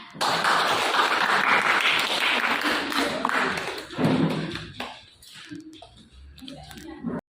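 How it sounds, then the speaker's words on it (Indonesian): A classroom group of students applauds after a presentation on the state budget, with a burst of dense clapping for several seconds that thins out into scattered taps and faint room noise. "Beri tepuk tangan."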